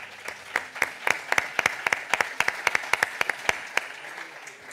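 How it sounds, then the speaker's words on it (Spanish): Sparse, scattered clapping from a small audience at a hospital engineering talk, individual claps distinct and fairly quiet, rhythm loose and uneven. "Un aplauso, ¿no?"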